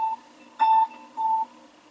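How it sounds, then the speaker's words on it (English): High, thin electronic beeps pulse on and off in short and longer bursts, giving a Morse-code-like rhythm, clear and steady against a faint hum. "you can probably hear something that sounds like Morse code"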